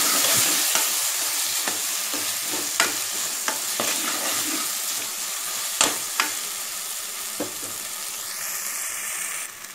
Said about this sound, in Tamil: இந்த மசாலா பேஸ்ட் இன்னும் நல்லா வந்து இதோட வதக்கி விட்டுக்கோங்க